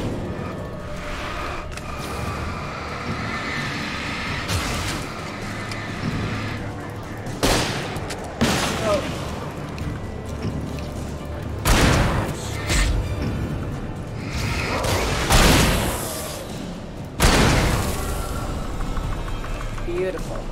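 Flare gun and shotgun fire in the video game Alan Wake, heard as several loud, sharp blasts spaced irregularly over a rumbling game soundscape, with a player talking between shots.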